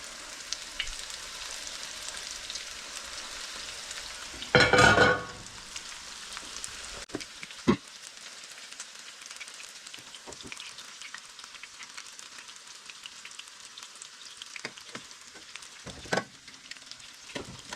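Pieces of yellowbelly fish fry in a pan with a steady, gentle sizzle. A brief loud crackling burst rises partway through, and occasional sharp pops and clicks break the sizzle.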